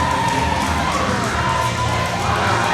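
Packed arena crowd at a CWF tag team championship wrestling event roars and cheers continuously, loud and sustained, with scattered shouts and whoops rising above the din.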